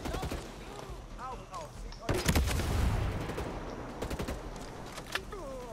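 A minigun in the tactical shooter Ghost Recon Breakpoint fires in long rattling bursts mixed with other gunshots and game effects, loud and close, while people talk over the action.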